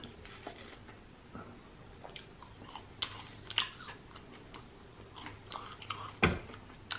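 Someone eats a Taco Bell chalupa up close, with irregular crunchy bites and soft wet chewing clicks scattered over several seconds, loudest near the end, with no talking.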